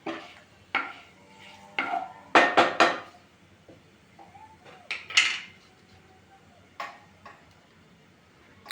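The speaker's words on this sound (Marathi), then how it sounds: "मी अगोदर ह्याच्यामध्ये खडे मसाले टाकून घेत आहे मीडियम गॅसवरती आपल्याला ते थोडंसं हलवून घ्यायचं आहे" Whole spices stirred in a pan over medium heat for masale bhat, sparse metallic scrapes and clinks of a spoon against the pan, separated by quiet pauses.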